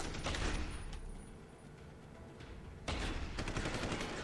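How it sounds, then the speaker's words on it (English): Shotgun blasts ring out in the game Deus Ex: Human Revolution: a dense cluster of loud, sharp shots up front, a quieter lull, then another burst of rapid gunfire, with no voices over it. "That guy has a shotgun."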